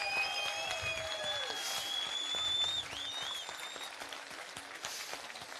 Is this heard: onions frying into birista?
no